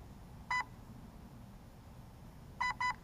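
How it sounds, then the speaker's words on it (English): A DJI Mavic Air drone gives two separate beep bursts close by: a single short tone near the start, then a quick pair near the end, with quiet background noise between them. "hold that button until you hear 2 beeps"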